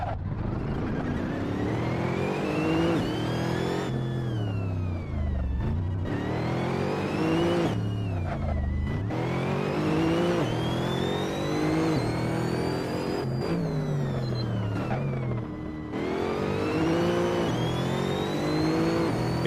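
Bugatti Chiron mod in the Assetto Corsa racing game, its engine note driving continuously and loudly, revving up through gears with repeated rising sweeps and short dips at shifts, no voices over it.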